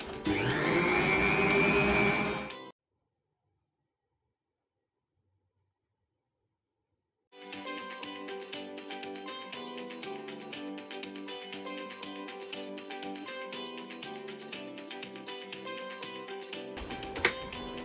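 An electric mixer whirs as it mixes a milk-based whipped cream base. A loud, steady motor whine plays, cuts off into silence for several seconds, then starts again and runs on evenly, ending with a brief click.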